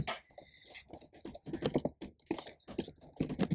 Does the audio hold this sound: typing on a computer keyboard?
yes